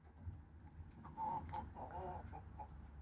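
Chickens cluck softly and intermittently over a low background hum, quiet and somewhat distant.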